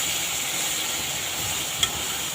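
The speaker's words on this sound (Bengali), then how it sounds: "তো দেখছেন মাছগুলো প্রায় ভাজা ভাজা হয়ে আসছে।" Pangas fish frying in a pan give a steady, close, even sizzle and hiss throughout, with one brief sharp click near the end.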